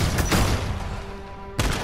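Gunshots in the video game Modern Warfare: one loud, sharp blast at the start, a fading ringing tail, then a second close report near the end.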